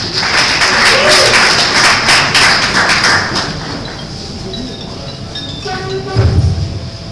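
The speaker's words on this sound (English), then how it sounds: "can we have a round of applause for Emotu?" Audience applause at a tech meetup: a burst of dense clapping from a crowd that fades out after a few seconds, leaving quieter room noise and a few thumps.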